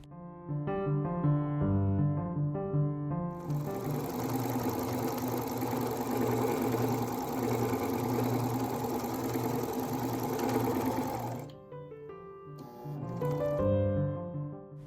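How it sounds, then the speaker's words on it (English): A sewing machine stitching the hood of an 18th-century style short cloak, running in one steady whirring burst of about eight seconds, with background music before and after. "the back is going to be sewn from the bottom up to the middle"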